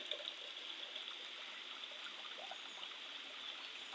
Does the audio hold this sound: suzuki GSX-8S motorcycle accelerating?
no